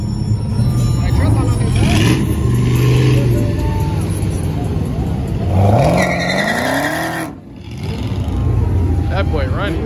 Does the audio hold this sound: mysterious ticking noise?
no